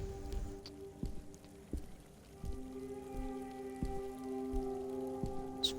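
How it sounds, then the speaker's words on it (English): Steady rain patters and drips throughout in the video game Backbone, with soft scattered drop hits and a low rumbling bed under a faint sustained tone, moderately quiet and without speech. "It's raining?"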